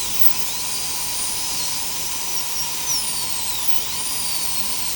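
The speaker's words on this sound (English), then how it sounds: "I'm going to take my burr and I'm going to take it all the way down down to the apices" Dental burr drilling a tooth socket down to the root apices during an extraction with immediate implant placement, a steady high-pitched whine held close and continuous, with small shifts in pitch as the burr works.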